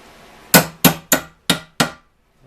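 A hammer strikes a metal part five times in steady succession while a 1925 Ford Model T hogshead is being assembled, each blow a sharp, close, ringing knock in an otherwise quiet workshop.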